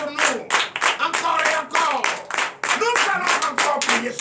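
Church congregation at a morning prayer service clapping together in acclamation, a steady patter of many hands with rhythmic bursts and voices calling out over it.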